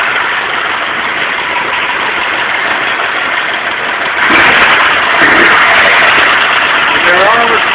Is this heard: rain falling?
no